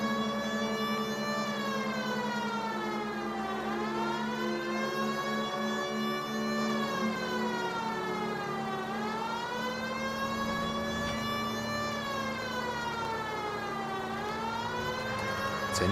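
A police siren in L.A. Noire wails continuously in slow rising and falling sweeps, loud and steady under a low vehicle rumble.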